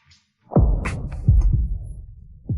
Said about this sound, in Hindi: दिल की धड़कन अपने आप बढ़ गई